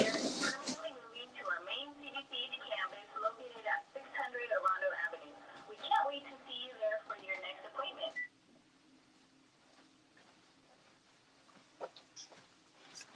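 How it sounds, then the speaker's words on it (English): A recording plays from a phone in the background, its faint, thin, radio-like voices running under a quiet room for several seconds before cutting off, leaving low hum and occasional soft ticks. "Now you don't have to listen to the recording on my phone."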